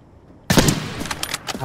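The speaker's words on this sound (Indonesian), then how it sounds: "Dia nembak duluan dong." Gunshots in the shooter Arena Breakout, a sudden loud volley of rapid close shots that breaks out of quiet and rattles on in quick bursts.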